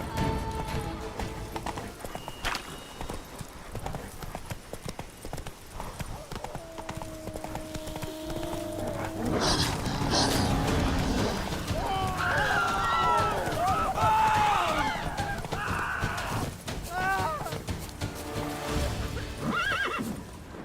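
Roach the horse gallops in The Witcher 3, hooves clip-clopping steadily, with whinnies and neighs rising over the pounding in the second half and other game sounds mixed underneath.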